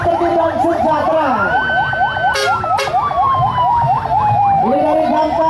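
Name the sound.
fire brigade truck siren in carnival parade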